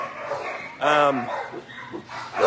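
Dogs in shelter medical isolation kennels, some with kennel cough, give a sharp bark and yips and whimpers close by, with a person talking over them.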